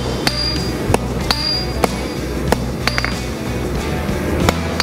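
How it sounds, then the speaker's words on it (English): A hammer strikes hot metal being forged for a flail, sharp ringing blows landing at irregular intervals of about half a second to a second over a steady background roar of the forge. "tilting the hammer back towards me, keep chopping it up"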